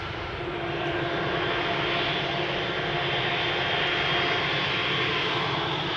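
A brand-new Embraer 195 E2 jet airliner at Amsterdam Schiphol airport gives a loud, steady engine roar that swells slightly and holds for several seconds, with no voices.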